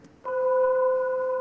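Sonified LIGO gravitational-wave detector signal from thermally vibrating glass fibers that suspend the interferometer mirrors, heard as a steady pure tone with a few harmonic lines that starts abruptly and holds evenly.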